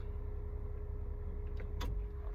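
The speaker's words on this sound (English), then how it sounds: "Let me turn the car off." A car engine idles with a low, steady hum, then a sharp click and brief clunk sound as it is switched off, the rumble easing afterward; no one speaks.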